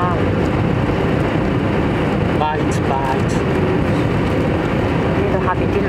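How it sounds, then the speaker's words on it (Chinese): Strong wind roars as a passenger aircraft descends to land in Taichung, a loud, steady rush filling the cabin while a passenger talks over it. "好大风啊！"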